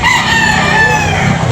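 A rooster at a chicken sale in Carbon, Cebu gives a brief crow over a noisy crowded market, the call fairly close and loud against the background chatter.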